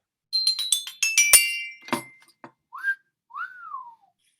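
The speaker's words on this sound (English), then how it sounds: "That's a wolf whistle, meaning that you got those points." A clatter of clinking glassy chimes, then a clear two-part wolf whistle sound effect on a game show: a short rising note followed by a longer rising-and-falling one.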